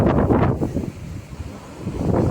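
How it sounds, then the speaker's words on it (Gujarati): Strong wind roaring over a stormy sea with surf breaking, a steady broadband rush that swells loud at the start and end of the short stretch. "તમે કેટલો પવન ને કેટલો મોજો છે"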